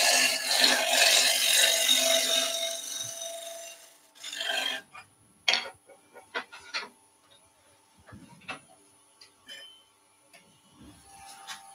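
Wood lathe turning a pumpkin-shaped box, a steady loud rasping gouge cut across the spinning workpiece that stops, followed by quieter scattered scrapes, taps and handling knocks.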